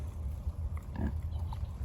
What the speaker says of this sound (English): Those pigs have been overfed.